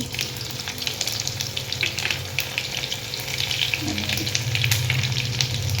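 Mustard seeds, cumin and garlic fry in hot oil for a village-style brinjal curry, giving a dense, steady sizzle with scattered sharp crackles and pops, close and loud without speech.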